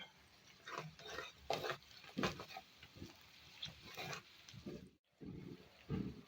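Onions frying with salt in a pan while being stirred, a soft crackling sizzle with irregular scraping strokes of a spoon, close and quiet, with a brief pause near the end.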